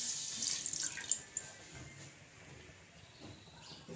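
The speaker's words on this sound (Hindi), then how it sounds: "इसके अंदर हम डालेंगे थोड़ा पानी," Water poured into a kadai on a lit stove for semolina halwa, a steady soft splashing trickle at moderate distance lasting several seconds, with a few brighter spatters near the start.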